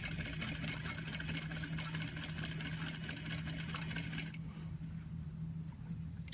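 A sewing machine runs steadily as it stitches fabric along a 1/2 inch seam allowance while an invisible zipper is put in. The motor hum is continuous and close, and the upper whir drops away near the end as the stitching stops.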